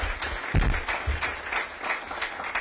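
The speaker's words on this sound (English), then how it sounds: "Give her a big round of applause." A crowd at an outdoor housing groundbreaking ceremony applauds a city council member, steady clapping from many hands filling the whole moment with no speech over it.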